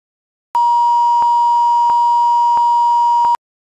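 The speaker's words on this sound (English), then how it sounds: "we can move the marker on the map to test the alarm" A simulated GPS alarm in an Arduino visual designer sounds as one steady electronic tone of about three seconds, loud, clean and alone against silence.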